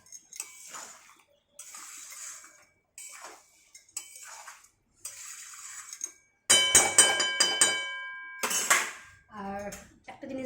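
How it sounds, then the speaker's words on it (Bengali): Fish head muri ghonto being stirred in a pot and then covered, giving a series of short scraping and clinking bursts of utensil against metal with brief pauses, then a louder clatter of the lid going on. "এটা নেড়ে চেড়ে আমি আরেকটু ঢেকে দেবো"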